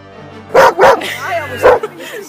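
A dog gives a few close, loud barks and yips in quick succession, with a bit of whimpering between them.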